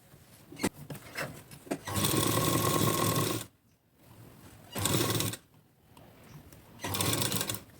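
A sewing machine stitches folded blouse fabric in three loud, steady runs, each about one to two seconds long, with quiet pauses between them and a few faint taps before the first run. No one speaks.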